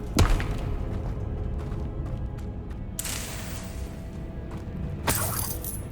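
Bombarda blasting spell in Hogwarts Legacy: a sharp shattering crash at the start, then two more bright smashing bursts of breaking objects, loud against a steady game ambience.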